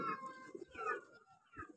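Pigeon cooing at close range, soft throaty calls repeating a few times with some background rustle.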